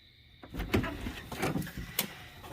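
A Tesla Model S Plaid door slides or swings open with a few low thuds and a scraping rattle, close by, ending with a sharper knock.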